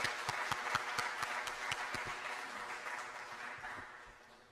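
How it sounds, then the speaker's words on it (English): Conference audience at a research and development gathering breaks into sustained applause, dense overlapping claps with a few sharper ones early, gradually thinning and fading toward the end. "Please, let's give him a big round of applause."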